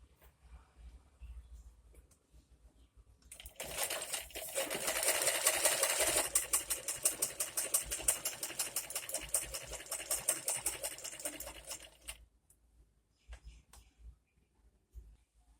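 A sewing machine runs steadily, stitching along the side hem of a chador, its rapid close mechanical chatter lasting about eight seconds and then stopping, with no talking.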